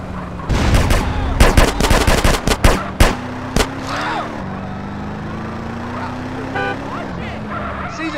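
Rapid machine-gun bursts and single gunshots during a drive-by in GTA San Andreas from a 1986 Chevrolet C20 Suburban Custom Deluxe truck, loud and close, over a droning engine, with voices shouting.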